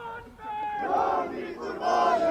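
A large crowd of protesters at a pro-Iran rally in Srinagar chants slogans in unison, voices swelling in loud waves and rising again near the end.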